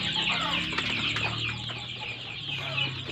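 Twelve-day-old KUB chicks that have just been moved into a raised poultry house make a dense, steady chorus of clucks and peeps. The sound is loud, close and continuous, with no talking.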